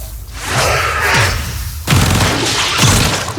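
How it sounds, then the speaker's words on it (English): Weapon fire in the Warframe game aimed at a hive, heavy booming blasts and thuds with whooshing bursts, loud and close, rolling continuously with a sharp new volley midway. "Hive located. Destroy it with weapon fire."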